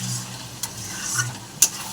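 Spices for a Bengali egg curry (dimer jhol) sizzle steadily in a pan with a little water just added. A low hum sits underneath, and a few sharp spatula scrapes stand out.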